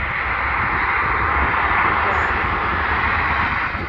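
Airplane engines roar at East Midlands airport during takeoffs and landings, a loud, steady, broadband rush that holds constant throughout.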